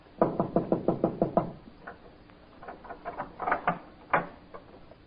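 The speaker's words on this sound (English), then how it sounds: "He goes to the door, and there he knocks." Knocking on a house door as a radio drama effect: a quick run of about eight firm wooden raps, then softer scattered knocks and shuffling, with one louder knock near the end.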